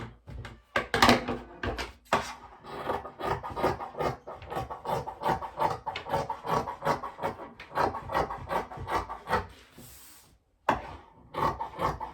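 Scissors cutting fabric for a pinafore skirt strap, a rapid series of crisp snipping and rasping strokes close up, pausing briefly before resuming.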